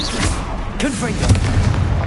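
The Confringo fire spell blasts in Hogwarts Legacy amid a troll fight: a booming, crackling impact with swooshing effects over continuous combat rumble, with voice-like sounds in the mix.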